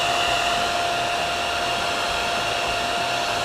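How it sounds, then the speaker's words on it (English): A hair dryer on high, heating vinyl wrap on metal, blows continuously at full power, a steady loud whooshing roar with a constant whine and no other sounds. "I use a hair dryer mainly just because a heat gun gets hot really quick"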